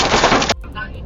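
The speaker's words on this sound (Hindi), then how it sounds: "कैमरे में कैद हुआ लाइव विस्फोट आपने देख लिया" Missile explosion during the Iran–Israel war, caught on a roadside car dash cam: a brief, loud blast of broadband noise that cuts off abruptly into a fainter rumbling tail.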